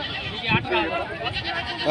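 A pregnant nanny goat bleats at a crowded goat market, a short wavering cry heard close amid overlapping human voices.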